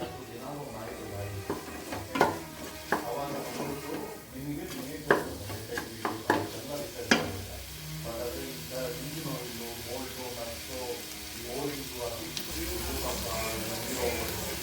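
Masala for chicken biryani sautéing in oil in a pan, with a steady sizzle under repeated stirring and scraping and several sharp utensil knocks against the metal, while a voice talks over it.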